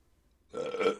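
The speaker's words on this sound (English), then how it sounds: "I don't know why that burp took so long to load." A single drawn-out burp rises abruptly after half a second of quiet and rumbles on loudly to the end.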